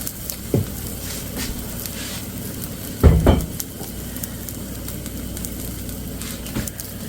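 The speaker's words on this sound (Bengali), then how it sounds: "এভাবে করে ভেজে নেবেন" A vegetable pancake fries in a pan with a soft, continuous sizzle, broken by a few brief clatters and one louder knock of a utensil against the pan near the middle.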